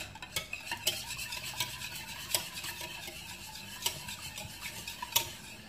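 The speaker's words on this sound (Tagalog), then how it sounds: "Ngayon guys, mix muna natin ang itlog." Eggs with vanilla are whisked in a bowl for carrot cake batter, a rapid rhythmic clatter of utensil against bowl with repeated sharp ticks at close range and no talking.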